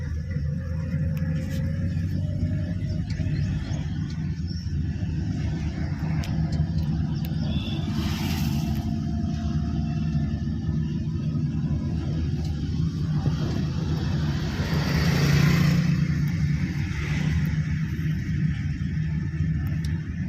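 A car drives straight during a driving lesson, slowly picking up speed, its engine a steady low rumble from inside the cabin that swells briefly near the end.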